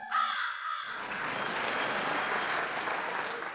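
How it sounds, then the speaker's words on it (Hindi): A crow caws in a comedy sketch. A few short, clear calls open the clip, then a loud, steady wash of applause-like noise takes over and continues to the end. "कौआ बोला काओ काओ"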